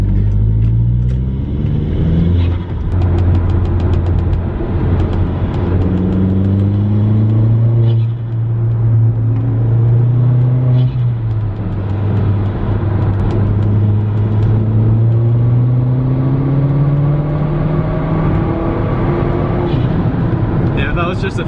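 A remapped Mini Cooper S pulls hard through third gear, its engine note climbing steadily in a loud, sustained drone with road rumble, recorded from inside a moving car while someone talks over it.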